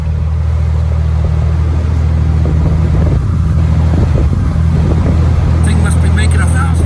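Loud, constant low drone of an M38 military jeep engine while driving in a convoy, steady engine rumble throughout with wind buffeting and people talking over it.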